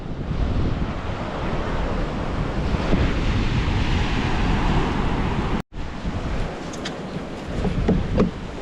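Strong wind and crashing waves roar continuously around a small outrigger bangka at sea, dense and loud close to the microphone, with a brief dropout partway through.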